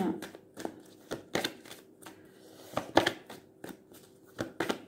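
Cards shuffled and drawn for a reading on money make a string of sharp riffling and slapping snaps at close range, irregularly spaced across the stretch, alone without voice.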